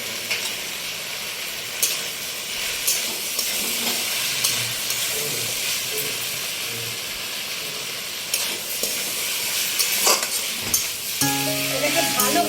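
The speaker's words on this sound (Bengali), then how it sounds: "এটাকে ভালোভাবে ভেজে নেবো, যাতে কেউ কারো গায়ে না লেগে থাকে" Cashews frying in hot oil, a steady close sizzle with occasional stirring clatter, moderate and continuous, with a brief utensil clink near the end.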